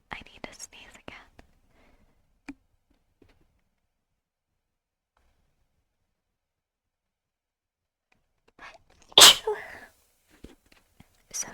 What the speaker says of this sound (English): No, I need to sneeze again.